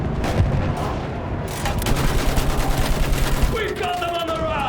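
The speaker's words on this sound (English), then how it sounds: "Keep your eyes on the ground, son. They're moving in from the trenches. Use that machine gun." Battlefield 1 World War I trench combat with machine gun and rifle fire, dense crackling bursts of shots in a loud battle mix, a voice calling out over the gunfire.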